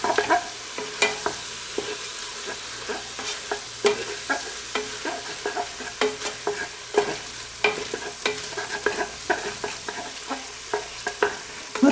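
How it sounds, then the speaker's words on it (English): Tomato paste being stirred into sizzling andouille sausage in a pot for red beans and rice, with repeated scraping spoon strokes in an uneven rhythm over a steady close frying sizzle, no talking. "And then we'll add our tomato paste. Let's stir that in."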